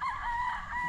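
A single rooster crows at a game fowl farm, a short clear call heard close and alone.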